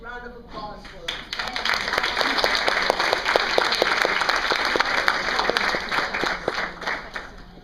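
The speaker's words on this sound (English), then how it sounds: "let's have a big round of applause for them" Audience at a women's political club spring conference breaks into a big round of applause after an awards presentation, steady crowd clapping with individual claps standing out. A voice is heard briefly at the start before the clapping builds.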